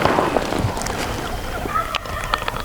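A wild turkey gobbles in a remote public hunting area, a faint, distant call rising over steady outdoor background noise.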